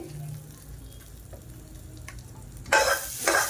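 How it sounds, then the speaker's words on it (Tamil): Hot tempering poured into a peanut chutney gives a sudden loud sizzle near the end, rising twice in quick bursts after a quiet stretch of soft kitchen sounds. "இந்த தாளிப்பை அப்படியே சட்னியில் கொட்டிடலாம்."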